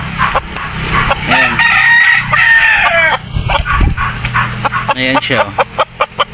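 Large breeding fighting roosters crow loudly and close, with drawn-out cock-a-doodle calls and clucking mixed with a dog's bark, while someone talks over them.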